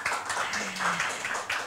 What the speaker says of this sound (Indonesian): Berikan tepuk tangan yang luar biasa pastinya